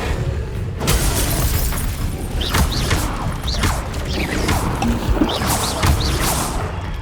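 Spell effects from Hogwarts Legacy combat: a string of sharp crashing, shattering magical bursts and impacts, with bright whooshing sweeps recurring over a dense, loud game backdrop.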